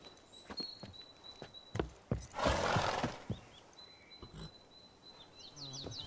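A horse in The Witcher video game, with a few soft hoof thuds and snorts close by, a brief breathy whinny-like burst in the middle, and faint ambient tones in the background.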